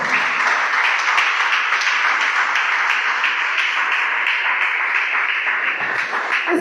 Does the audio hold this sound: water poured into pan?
no